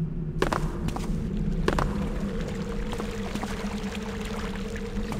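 Steady running water in the stealth game Thief: Gold, a continuous rushing flow with a few faint clicks and knocks on top, no talk.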